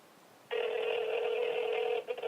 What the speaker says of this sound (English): We're doing a phone call right now.